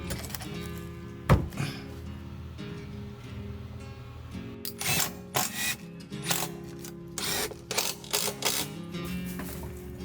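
Horizontal wooden furring strips are fastened onto wooden studs in a carpentry renovation: a sharp thunk, then a series of close, choppy mechanical bursts of driving and ratcheting noise separated by short gaps, no voices.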